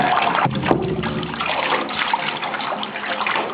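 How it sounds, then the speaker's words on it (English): Water sloshing inside a rusty bottle and being poured out, a continuous gurgling splash with a sharper knock near the start, close and fairly loud with no talk over it. "Slosh it around, and then dump it."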